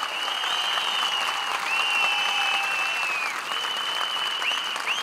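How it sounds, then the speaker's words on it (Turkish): A big crowd applauds at an open-air political rally in Saraçhane, a constant roar of clapping filling the square, with high whistles rising and sliding above it from start to finish. "Bu alkışlar sana Fatih Bey."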